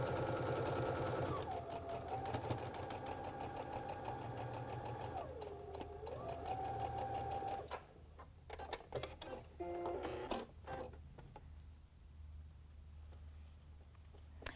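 Baby Lock sewing machine stitching quilting fabric with a clear 1/4-inch foot, fast steady needle hum for several seconds, slowing, then stopping into scattered clicks and fabric handling.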